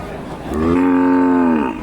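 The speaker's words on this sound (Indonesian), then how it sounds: "Oke, kita sambung ke sapi miliknya Mas E ini" A single loud, drawn-out cow moo, close by at a cattle market in Jatirogo, Indonesia, rising and holding for over a second before trailing off.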